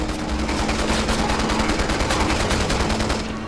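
Rapid gunfire in the video game Resident Evil 6, a dense, steady stream of overlapping shots and bursts that continues loudly for the whole stretch with no pauses.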